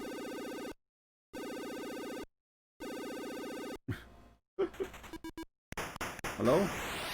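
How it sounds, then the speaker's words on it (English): Eye laser in the MSX game Expert Plus gives off a harsh electronic trill much like a telephone bell, sounding in three even bursts with gaps between, followed by clipped game noises and scattered blips. "does his eye laser sound like a telephone ringing?"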